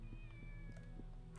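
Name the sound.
cat meowing in Shenmue video game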